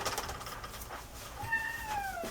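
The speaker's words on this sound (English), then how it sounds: "You guys can hear my cat Watson because he's smelling the good smells" A pet cat named Watson meows in a kitchen while sausage and vegetables are prepared, giving two rising, drawn-out meows near the end over faint room noise.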